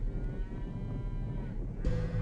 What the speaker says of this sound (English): Poor cows have no idea of the cruel fate that awaits them.